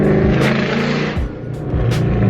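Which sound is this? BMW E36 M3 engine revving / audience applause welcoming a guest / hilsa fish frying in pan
BMW E36 M3 engine revving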